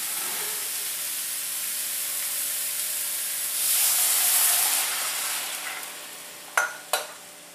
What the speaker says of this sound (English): And we're going to add our beef stock.